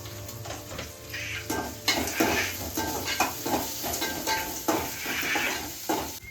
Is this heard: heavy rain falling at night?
no